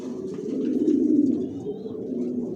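Johnson red checker racing pigeons coo in a loft, a low, close, rolling murmur that swells and fades over a couple of seconds, with a faint chirp above it.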